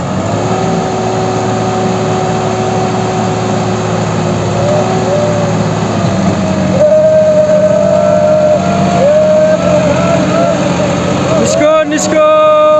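A new tractor runs near a digging site where two JCB excavators work, its engine a loud, steady drone that holds throughout and rises slightly in pitch partway through, with a few sharp clanks near the end.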